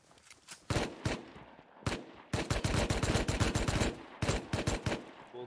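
Rapid bursts of pump shotgun fire in the survival game Rust, several sharp loud blasts in irregular clusters with brief gaps between them, no talking.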